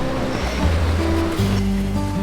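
Ocean waves on the California coast at Pismo Beach, a continuous rushing wash of surf close by, loud and steady throughout.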